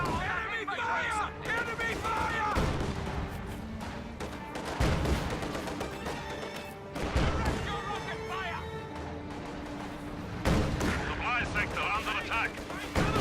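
Dense gunfire and booming artillery from a war strategy video game roar continuously, with rapid shots and heavy blasts layered over one another while voices talk over the battle.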